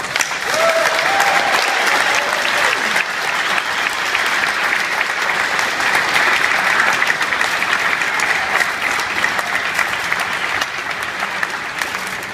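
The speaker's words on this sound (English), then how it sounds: "So another big round of applause for Kell Brook." A large crowd applauds boxer Kell Brook at his homecoming, a loud, sustained wash of clapping that stays even and unbroken for over twelve seconds.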